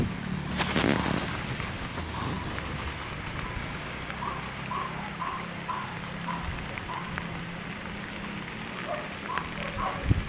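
Typhoon rain in Bulacan pours steadily in a soft, even hiss, with brief faint tonal chirps scattered through it and a small bump near the end.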